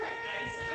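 A cat meows from inside a fence, a drawn-out wavering cry heard faintly over steady air-conditioning hum in a township meeting room, with no talk over it.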